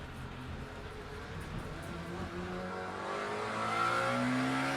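A Lamborghini V8 race car in Le Mans Ultimate revs up, the engine tone rising steadily and growing louder over a few seconds, heard alone at moderate volume in the simulated Imola circuit setting.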